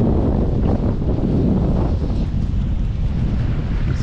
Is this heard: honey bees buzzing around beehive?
no